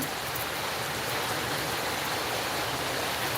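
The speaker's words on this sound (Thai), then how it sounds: "ได้ยินเสียงฝนตก" Rain falling steadily outdoors, a dense even hiss of drops that holds constant and fairly loud throughout with no pauses.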